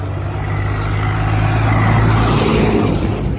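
Steady, loud highway traffic rumbles past on the Delhi–Mathura NH2 near a girder launch site, a continuous low drone of cars and trucks moving slowly after being held up.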